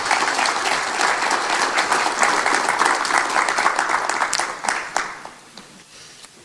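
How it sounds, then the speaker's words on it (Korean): Warm applause from a seated audience at a public briefing on the Gwangju–Jeonnam administrative merger in Yeosu, steady dense clapping that fades out near the end. "자, 박수 부탁드립니다."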